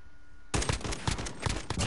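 Rapid automatic gunfire erupts in Call of Duty Modern Warfare after a brief quiet lead-in, a dense, loud stream of overlapping shots with no voices over it.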